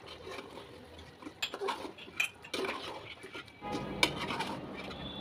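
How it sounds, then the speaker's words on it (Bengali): Beef and potato curry stirred in a pot on the stove, with a spoon scraping and clinking against metal in scattered, moderately loud strokes over a soft background hiss. "হালকা করে নেড়ে চেড়ে নিব।"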